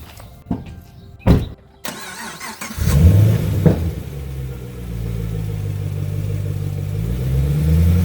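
A Chevrolet Camaro V8, fifth generation, starts up with a sharp crank and settles into a deep, steady idle-to-low-rev rumble as it rolls up onto ramps for an oil change, close and loud.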